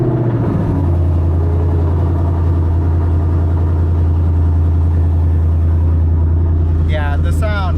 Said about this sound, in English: All right, starting it up. Let's listen to this baby one more time here.